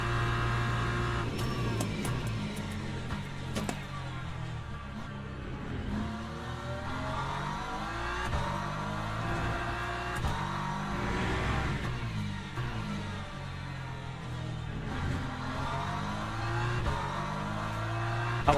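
A race car in the Le Mans Ultimate racing game accelerates, brakes and shifts through corners, its engine note repeatedly climbing and dropping at a moderate level with no talk.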